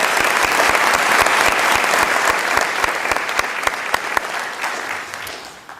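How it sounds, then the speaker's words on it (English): Audience applauding inductees at a National Honor Society awards ceremony, sustained dense clapping with distinct sharp individual claps standing out, gradually fading toward the end. "how about a big round of applause for our inductees?"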